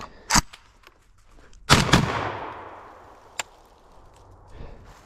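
Fostech Origin 12 shotgun firing number 8 BioAmmo birdshot: two sharp, loud reports, the second closely doubled with a long echoing tail, followed by a small click and a faint knock.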